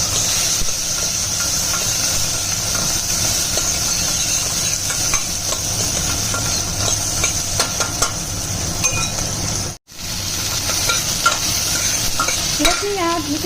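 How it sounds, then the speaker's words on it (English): Urad dal and onion are stirred in a hot pan, giving a steady sizzle and frying hiss with scraping spoon strokes throughout, and a brief break near the end. "urad dal, and onion, and let's stir it."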